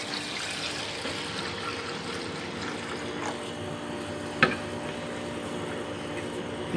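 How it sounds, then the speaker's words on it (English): Chilled transfer buffer pours steadily into a container at a lab bench, a continuous watery rush with a brief clink partway through. "Pour sufficient buffer."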